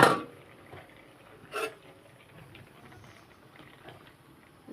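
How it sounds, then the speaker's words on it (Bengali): A lid comes off a pot of boiling seeds with a sharp metallic clank at the start and another clink a moment later, followed by a quiet bubbling simmer. "তো চলো এবার ঢাকনাটা খুলে দেখি বিচিগুলো সিদ্ধ হয়েছে কিনা।"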